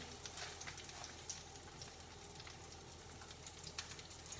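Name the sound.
sesame tuna steaks searing in a hot pan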